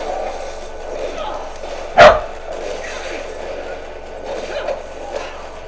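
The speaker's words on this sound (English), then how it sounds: "that was my dog. I don't know why he's barking right now" A single short, sharp dog bark near the mic rings out over a low steady hum and faint game sounds, with no voices.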